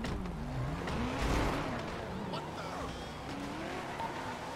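Car engines rev and tires squeal as vehicles pull away in the video game GTA, with voices faintly underneath.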